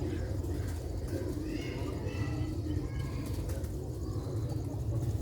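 Sialkoti and Ali-wale pigeons coo softly and steadily against a constant noisy background hum, with low murmuring calls repeating throughout and no clear talk.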